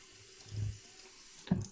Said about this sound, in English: let me rinse off the face and we'll get back